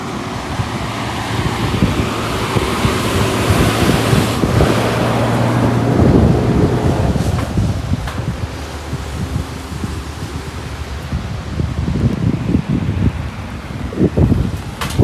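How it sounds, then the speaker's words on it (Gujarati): Strong wind in Kashmir on a cycle ride from Srinagar to Sonamarg, a loud continuous roar buffeting the microphone with rumbling gusts throughout. "પવન ચાલુ છે."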